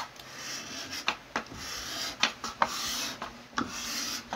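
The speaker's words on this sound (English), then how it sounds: "You take your card scraper and you flex it slightly, and you push that bowed flexed section." Flexed steel card scraper pushed across a wooden surface, pulling off shavings in a series of quiet, raspy strokes with short scratchy bursts, heard close and alone.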